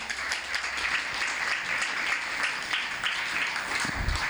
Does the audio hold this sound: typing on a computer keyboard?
no